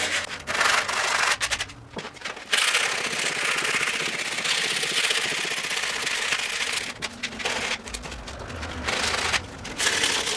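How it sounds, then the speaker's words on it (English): Sandpaper rubbing over hardened epoxy on boat panels, a loud, close, continuous scratchy rasp in long back-and-forth strokes with brief pauses. "I'm just going to clean up all of the surfaces with some sandpaper"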